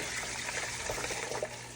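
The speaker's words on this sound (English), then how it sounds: "I'm going to leave my water running to stay hot. So I just pour it all around my jars." Hot tap water pours and trickles around glass jars in a Presto pressure canner during home canning of chicken broth, a steady soft splashing flow that is faint and continuous.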